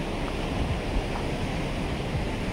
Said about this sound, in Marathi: समुद्र खवळलेला आहे.